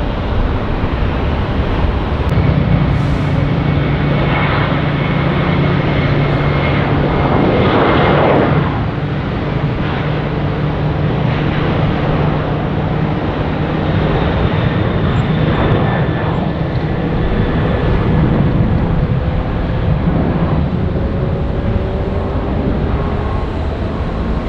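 An American Airlines Airbus A320 airliner roars loud and near at Tampa International Airport, a broad, sustained jet engine rumble and whine holding steady throughout.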